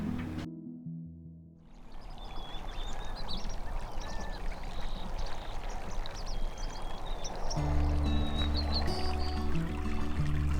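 Water trickles and splashes steadily in a low, ground-level recirculating garden fountain in a Joshua Tree desert garden, with birds chirping faintly nearby and a low hum joining near the end.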